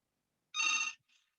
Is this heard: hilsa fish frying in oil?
no